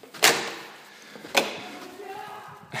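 An ancient door in an Urbino neighborhood in Italy opens and closes, giving two sharp wooden knocks about a second apart that carry over quiet ambient noise.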